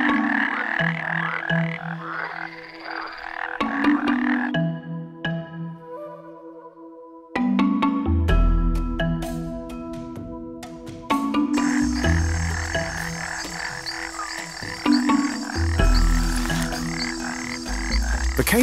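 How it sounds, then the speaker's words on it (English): A cane toad, a large terrestrial toad, croaks in repeated loud, close bursts of varying pitch, with other rhythmic animal calls and background sounds layered throughout. "The cane toad is a large terrestrial toad native to South and Central America"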